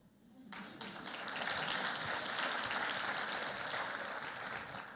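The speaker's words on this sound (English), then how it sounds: "Now you can applaud." Audience applause at a talk on turning sustainable development goals into tangible actions, starting after half a second and swelling into a dense, steady wash of clapping that fills the room and holds loud to the end.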